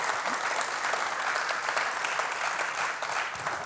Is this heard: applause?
yes